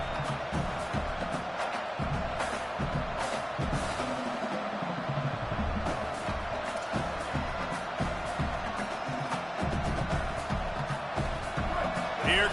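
Stadium crowd noise in a college football video game, a steady dense roar with cheering swells that stays loud throughout and builds toward second down, no clear voices standing out.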